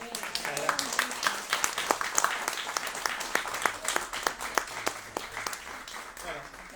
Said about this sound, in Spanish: le aplaudimos a Rally